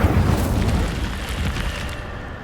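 Incendio fire spell cast in Hogwarts Legacy: a loud, sustained roaring whoosh of flame that begins with a burst and fills the whole moment, gradually thinning toward the end.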